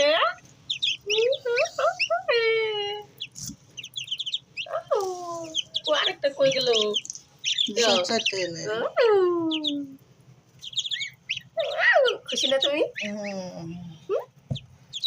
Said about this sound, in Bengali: রাজা হাঁসের বাচ্চাগুলো টিক টিক টিক করে বলছে